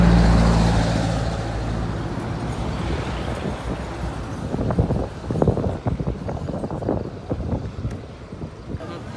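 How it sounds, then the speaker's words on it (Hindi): Night traffic on a main road rumbles past, with vehicles passing at moderate distance and wind buffeting the microphone, while people talk over the steady road noise. "हम मेन रोड पे खड़े हैं, इस वजह से गाड़ियों की आवाज़ आएगी।"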